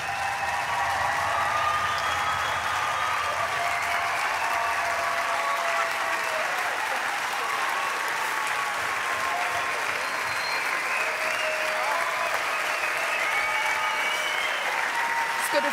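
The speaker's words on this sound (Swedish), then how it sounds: "En stor applåd för Elise Lindqvist." Sustained audience applause from a large crowd at a 2014 youth church event, a dense, even wash of clapping that stays loud for the whole stretch without pause.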